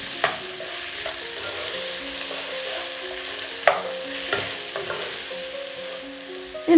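Vegetables and green chillies sauté in a pan over a medium flame for a vegetable pulao, giving a steady sizzle broken by a few sharp clatters of stirring, with no one talking.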